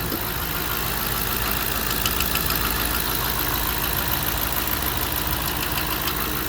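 A Hemi V8 engine idles steadily with a fast ticking from worn lifters, loud and close, constant throughout with no talking.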